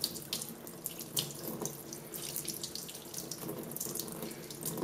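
Cool-to-lukewarm tap water runs steadily into a sink while a makeup brush is rinsed under it, a close, continuous splashing hiss with small irregular spatters and no voices.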